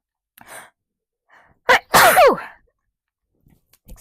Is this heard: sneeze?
yes